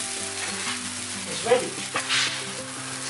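Goan sausage chilli fry sizzles hard in the pan while being mixed, with scraping stirs and a couple of clanks; a voice speaks briefly over the frying.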